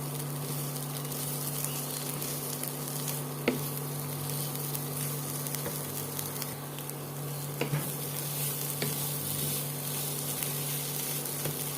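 Drumstick curry sautéing in a pan, a constant close sizzle and crackle of hot oil, with occasional light clicks of stirring against the pan and a low steady hum underneath.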